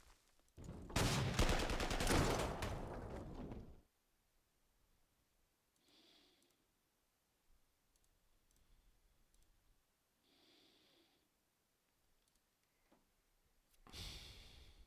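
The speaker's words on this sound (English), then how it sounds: "Yeah, the artillery is going to go on this guy." Artillery fire in the strategy game Panzer Corps 2: a long, loud rumbling barrage at the start, then a few faint muffled thuds, ending with another loud burst.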